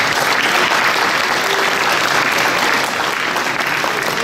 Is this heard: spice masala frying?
no